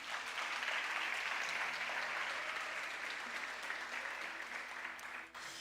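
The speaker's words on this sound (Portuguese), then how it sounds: "Você pode aplaudir a Jesus por isso?" Church congregation applauding during a sermon: broad, continuous clapping from a large crowd, even and somewhat distant, easing slightly near the end.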